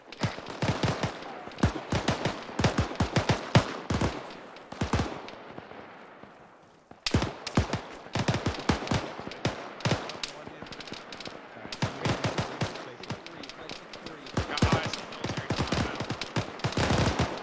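Sustained close gunfire during platoon training, with dense bursts of rapid automatic shots broken by a short lull, loud and continuous across the clip.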